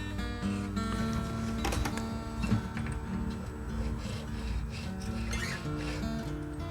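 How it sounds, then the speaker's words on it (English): A Japanese nut file cuts a guitar nut slot, making slow, quiet rasping strokes in an irregular rhythm, close up and otherwise unaccompanied. "So I want to use my file like that and just go slow."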